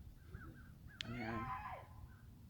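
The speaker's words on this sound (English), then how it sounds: "There's two crows." Crows caw once or twice outdoors, a brief harsh call near the middle rising over a hum of background noise, with a faint higher bird note nearby.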